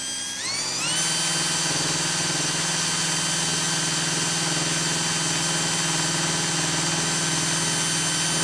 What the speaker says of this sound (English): just increase the drill speed, while again not trying to push the drill.